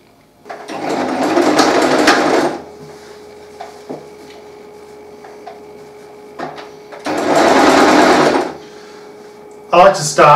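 A sewing machine stitching the shoulder straps of an apron dress, two loud steady runs of rapid needle hum about two seconds each, separated by quiet handling clicks, with a short burst at the end.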